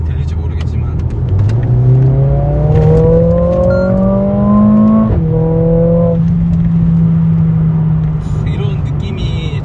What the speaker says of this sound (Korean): 이 다운시프트 했을 때 그 배기음을 한번 들어보시면